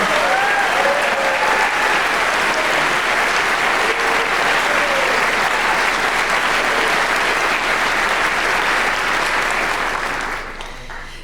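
Large audience at a university department gathering applauding faculty, a loud, dense, sustained roar of clapping with a few voices mixed in, tapering off at the end.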